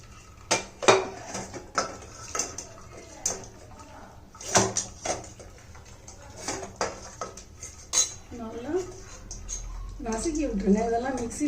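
Mudavattu kizhangu soup is strained through a perforated plate, with clinks and scrapes of metal utensils and dishes in uneven bursts, followed by sloshing liquid, while a person talks nearby.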